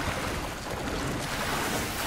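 Wading through water in the Tomb Raider video game gives a continuous rushing, sloshing wash that stays steady and moderately loud throughout, with no speech over it.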